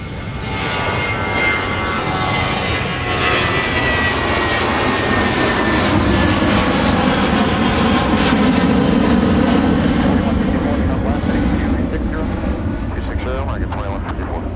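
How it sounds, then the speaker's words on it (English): A fixed-wing airliner roars steadily on its takeoff run from the runway at Minneapolis–Saint Paul airport, a loud, sustained engine rumble and whine that holds for the whole stretch, with voices talking over it. "fly runway heading, cleared for takeoff"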